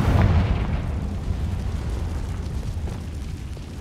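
In Hogwarts Legacy, a Confringo fire spell detonates with a loud, deep explosive boom that rumbles and slowly fades over several seconds.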